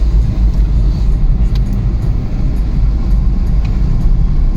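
A car driving around Rutegama town in rural Muramvya Province, Burundi, its engine and road rumble a loud, steady low roar throughout with faint rattles and no talk.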